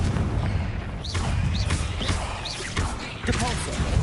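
Fiery blast spell explosions in the wizarding game Hogwarts Legacy, several whooshing bursts and booms over a loud continuous rumble of combat.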